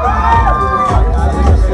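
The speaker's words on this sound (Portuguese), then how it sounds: "Tem torcida do Ederson aí?" Supporters at a men's 5 km road race award ceremony cheer and shout briefly as a finisher is called up, a loud close crowd burst with whoops mixed with babble.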